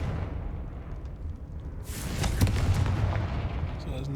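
A Confringo spell explosion in Hogwarts Legacy bursts after a quiet, low ambient hum, one sharp, loud blast followed by a crackling, rumbling tail that fades over the next couple of seconds.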